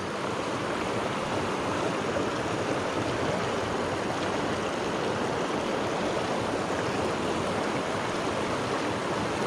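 A creek swollen after Hurricane Helene in the Taylors Valley to Damascus area rushes and churns steadily, a dense, continuous roar of flowing water close by, with no talking.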